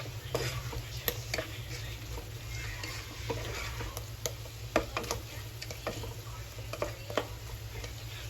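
Meatballs sauté in a buttery pan with a steady low sizzle, with scattered clicks and taps of a utensil stirring them over a constant hum, close by.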